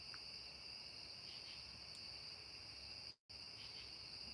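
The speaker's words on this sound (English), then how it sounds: "You hear the crickets? Well, I thought y'all might enjoy the crickets." Crickets chirping outside by a porch at night, a steady high-pitched trilling chorus that continues unbroken apart from a momentary cutout, faint and distant, with no talking.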